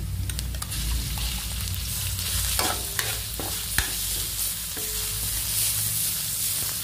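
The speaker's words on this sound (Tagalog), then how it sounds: "Tapos, sangkutsa natin ng maigi hanggang bumango bago natin ilagay ang upo." Ground meat and chopped onion sizzle and fry in a pan while a utensil stirs and scrapes through them, with a continuous loud hiss and intermittent clanks, and no talking.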